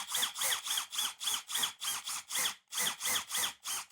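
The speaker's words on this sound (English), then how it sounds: "on my drill, I'm going to go on the slow speed" Power drill on slow speed boring out a metal rivet on a luggage wheel, pulsing in short rhythmic bursts of high whine and grinding squeal, about a dozen quick cycles, close and fairly quiet.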